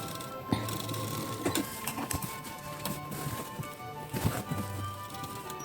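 A sewing machine stitches tucks on a plain blouse with rapid rhythmic mechanical clatter in short runs, broken by brief pauses and small knocks.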